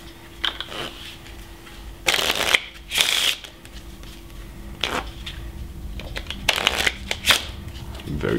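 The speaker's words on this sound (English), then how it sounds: "Very good shuffling skills." A deck of playing cards is riffle-shuffled during a card trick, with two quick bursts of crisp riffling early on and two more near the end over a faint background murmur.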